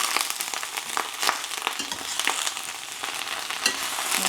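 Chillies, ginger and tomato being stirred slowly in a hot pan, with a steady broadband sizzle and scattered soft scraping strokes running continuously, close and fairly loud, with no voices.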